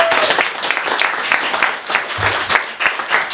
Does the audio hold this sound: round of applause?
yes